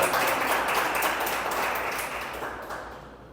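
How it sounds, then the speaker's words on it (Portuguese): A church congregation at a worship service applauds in a dense, even wash of clapping that slowly fades over about three seconds, with no talking. "Dê um aplauso ao Senhor por isso"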